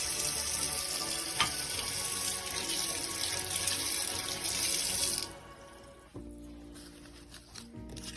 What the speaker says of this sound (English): So I'm getting some warm water.